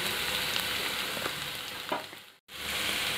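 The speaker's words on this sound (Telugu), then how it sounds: "పప్పుని 2 మినిట్స్ బాగా ఫ్రై చేయాలండి" Raw lentils with a little salt fry in a pan, producing a dense, even sizzle with occasional stirring scrapes. The sound cuts out briefly near the end, and there is no talking.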